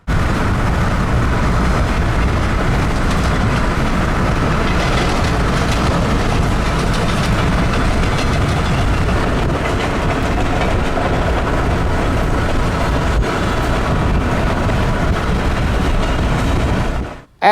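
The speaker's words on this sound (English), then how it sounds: "the train is going a lot faster now, and was pushing 50 miles an hour in some sections" Union Pacific Centennial 6936 diesel locomotive on the former Rock Island mainline roars past at speed, a loud, steady rumble of engine and rolling wagons with clickety-clack that holds throughout before cutting off abruptly at the end.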